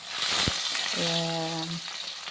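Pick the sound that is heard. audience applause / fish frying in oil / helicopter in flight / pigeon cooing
fish frying in oil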